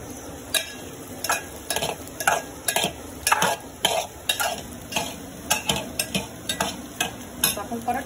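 Potato bhaji being stirred and fried in a pan on a gas stove, with repeated spatula scrapes and clinks against the pan in a steady rhythm over a continuous sizzle, close and fairly loud.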